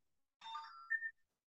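A mobile phone ringtone chirps once, a short bright electronic jingle sounding alone in an otherwise silent room.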